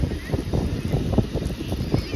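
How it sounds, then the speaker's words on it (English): Wind gusts across a beach and buffets the microphone with a steady, low, blustery rumble that rises and falls in uneven pulses over the whole short stretch. "It's always windy on the beach."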